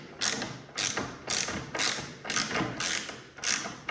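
On a Troy-Bilt Storm Tracker 2890 snowblower, a J-hook is loosened with a ratcheting tool, making a steady series of about eight crisp, close clicking bursts at a regular rhythm, with no voices.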